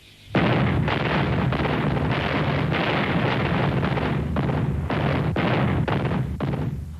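A heavy artillery barrage at Cassino in 1944, with massed guns firing continuously as a dense, loud rumble punctuated by repeated blasts, no voices.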